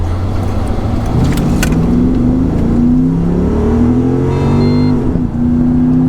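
An HSV Coupe 4 all-wheel-drive coupe accelerates hard on an open 100 km/h road, its engine note rising loudly and climbing in pitch through a long first gear, heard close from inside the car with no talk.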